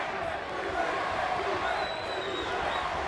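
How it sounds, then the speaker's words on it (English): Arena crowd at a WCW wrestling match roars steadily throughout, a dense, continuous cheer with no break. "Crowd here really getting into it."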